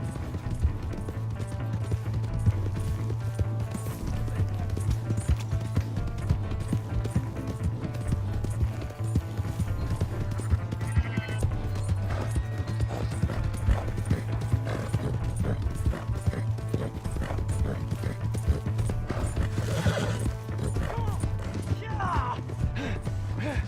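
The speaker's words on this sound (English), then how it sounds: "That's my horse!" Horse hooves clip-clop steadily with an occasional whinny in Red Dead Redemption 2, set under continuous game music and voices talking.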